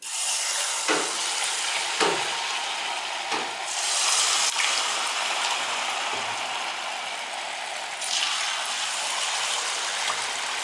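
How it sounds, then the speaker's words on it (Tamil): Vada batter sizzles in hot oil in a wide pan, a steady loud crackling hiss throughout with occasional sharper pops and a brief scrape near the start. "வடையை போட்டு புளிச்ச மாவுனால அதுவே நல்லா எலும்பி வரும்."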